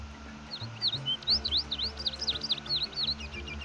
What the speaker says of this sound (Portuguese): Essa é a patativa tropeira, um passarinho que ocorre apenas nos campos arbustivos do sul do Brasil.